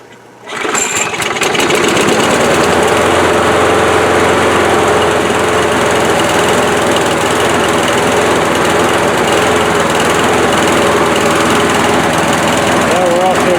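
A small Murray lawn mower engine starts abruptly and then runs steadily, a loud, buzzing drone close by with constant vibration.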